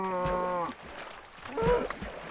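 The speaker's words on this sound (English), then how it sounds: "Did I just hear two cows moo simultaneously?" Cows in Minecraft moo twice, each a short, tonal, game-style bellow, with a brief pause between them and nearby quiet background.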